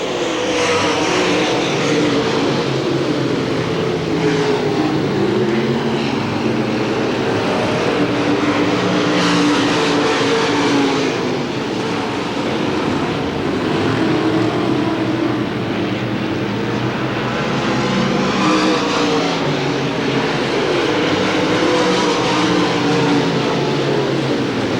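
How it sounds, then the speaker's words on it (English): Race cars roaring around Hamilton County Speedway during a 1993 Winston 50 event, a dense, continuous engine drone from several cars at once, loud and steady throughout with no talking. "We've got a real race going a little farther back here with Kenny Farrell, Don Beckstrom, and Mark"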